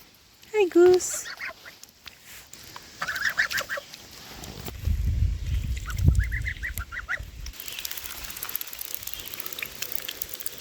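A goose honks near a forest clearing site, with a loud, sharp honk early on followed by fainter scattered calls and some low rumbling background noise.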